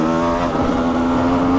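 A 250cc two-stroke enduro motorcycle's exhaust with an aftermarket silencer, a close, steady, buzzing drone held at a constant rev with no talk over it.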